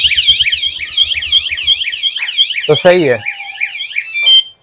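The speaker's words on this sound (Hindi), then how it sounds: "बाइक लेके जाने से पहले ही ये अलार्म बजाना स्टार्ट कर दिया है" A motorcycle anti-theft alarm wails loudly in a repeating electronic warble, joined by a quick beeping chirp; someone speaks briefly over it near the end.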